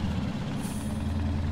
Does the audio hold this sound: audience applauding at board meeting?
no